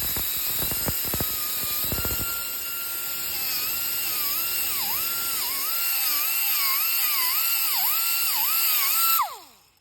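A small high-pitched rotary power tool grinds Birkenstock soles, whining steadily with wavering pitch as pressure changes, a few clicks near the start, then spinning down at the end; close and loud, no talking.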